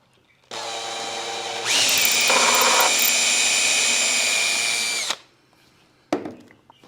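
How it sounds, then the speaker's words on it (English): A cordless power drill pre-drills a pilot hole into a 2x4 wood leg for a planer table: a steady whine that spins up, runs at full speed for a few seconds as it bites into the wood, then stops, followed by a brief clatter. "Pre-drill."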